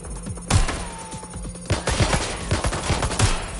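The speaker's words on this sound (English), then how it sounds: "shots fired! Shots fired!" Gunfire in the Watch Dogs: Legion video game crackles in sharp, close bursts, a few isolated shots followed by rapid volleys, with a faint ringing tone in the background.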